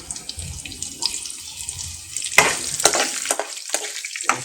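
Dried red chillies and fresh curry leaves crackle and spit in hot oil for coconut chutney tempering, with sharp intermittent pops over a steady hissing fry, close and with no talking.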